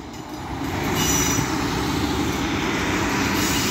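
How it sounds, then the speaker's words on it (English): A Northern passenger train formed of units 156441 and 15118 on a service to Manchester Oxford Road moves through Wigan North Western station. A loud, steady rolling rumble of wheels on the rails runs throughout. "15118, working a northern service to Manchester Oxford Road."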